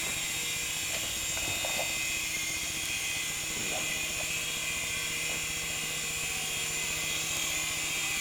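A small model helicopter flying indoors, with a constant high-pitched electric buzz and rotor whir running steadily throughout, close and alone, with faint knocks underneath.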